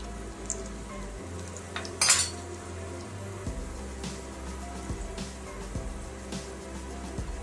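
A spoon scrapes and clinks around a pan as onion and turmeric are stirred in hot oil, with one sharper metallic knock amid a low steady hum and faint sizzle.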